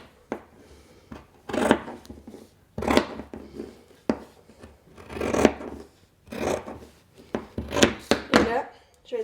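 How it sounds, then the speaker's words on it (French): Scissors cut through fabric being made into skate blade guards, with a series of short crisp snipping and rasping strokes, fairly close, separated by brief pauses. "Et je vais aller couper mon tissu à 10 pouces et demi."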